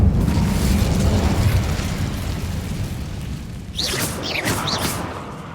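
An Incendio fire spell is cast in the Hogwarts Legacy video game: a dense, steady rumbling roar, then a sudden whooshing burst of flame with sweeping hiss about two-thirds through, loud and close.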